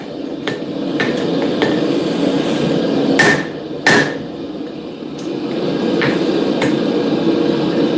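A hollow forge hammer striking hot metal in a blacksmith's forge during cross pein work, several sharp ringing blows spaced irregularly over a steady background roar of the forge.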